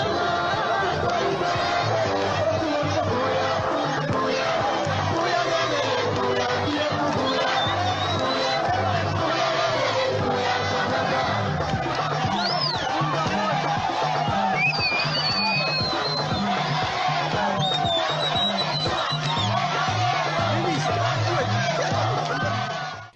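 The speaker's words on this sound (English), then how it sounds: "Here are some of the occurrences in Chiengi by-election where United Party for National Development UPND supporters are cheering." UPND supporters at the Chiengi by-election in Zambia, a dense crowd of chatter and cheering voices with whistles and shouts rising over the hubbub, continuous and fairly close.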